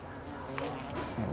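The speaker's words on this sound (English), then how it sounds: "Oh, that's a cool looking bee." A bee buzzes close by outdoors, a brief droning hum mixed with a voice talking and low background noise during work on a Honda Dio scooter engine.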